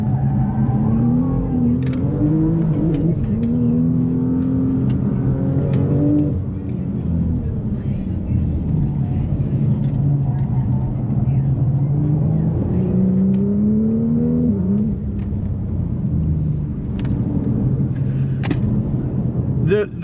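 A new Audi RS5 V6 pulls hard from the cabin, engine pitch sweeping upward through several gear changes over a deep rumble, loud and sustained.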